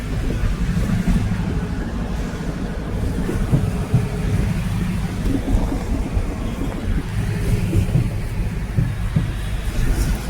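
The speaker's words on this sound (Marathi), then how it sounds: "पुण्याला इतका भयान पाऊस" Heavy rain and thunder over traffic in Pune: a dense, steady roar of downpour with deep low rumbling, loud and continuous from start to finish.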